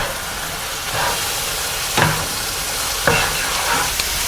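Cayenne pepper, paprika and salt are stirred through sizzling food in a frying pan, giving a steady close hiss broken by several distinct scraping strokes of the utensil, with no talking.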